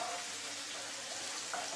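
Cumin, garlic and chopped vegetables for Indian samosas fry in hot oil, giving a steady, dense sizzle that hisses evenly throughout, close up and with no voices.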